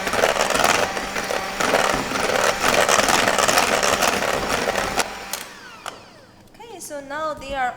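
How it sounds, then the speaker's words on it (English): An electric mixer beats batter with cinnamon and ginger at high speed, a loud steady whirring drone that cuts out after about five seconds, followed by a voice speaking. "And we just gonna mix it like together. Again with a high speed."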